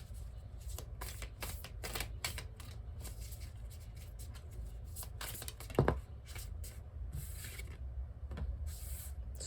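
Tarot cards being shuffled repeatedly in quick riffling bursts, close up, with one louder snap near the middle and no talking.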